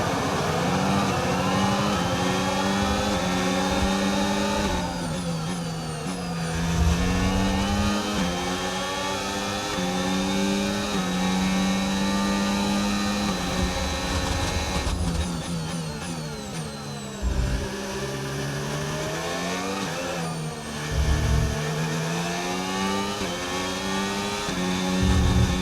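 A Formula 1 car engine howls in the F1 25 game at the Australian Grand Prix, loud and continuous, climbing through the revs and dropping sharply at repeated gear changes, with no talk.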